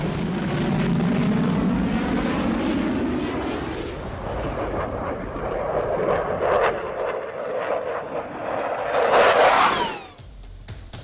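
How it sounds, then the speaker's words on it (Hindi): A pair of Ukrainian MiG-29 fighter jets armed with French Hammer guided bombs roar overhead, a loud, sweeping jet rumble that shifts in pitch as they pass and then cuts off sharply near the end. "यूक्रेन के 2 MiG-29 फाइटर जेट्स की उड़ान।"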